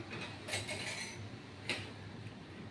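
A spoon lifting paneer butter masala from a pan, giving a few soft metallic scrapes and clinks against the cookware, close and low over a steady background hum.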